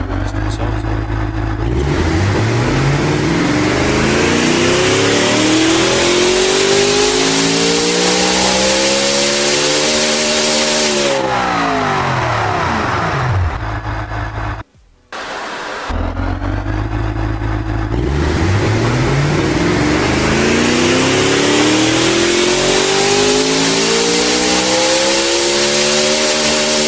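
Car with a 5-liter engine in the simulation game Automation revs through two full pulls, its loud engine tone climbing steadily in pitch and then dropping between runs, with a brief cut near the middle.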